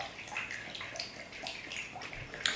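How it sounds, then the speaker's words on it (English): Water from inside a mature coconut is poured out, a faint, uneven trickling and splashing with small gurgles and a brief drip near the end. "we just pour out the water from inside of the mature coconut and pop that aside"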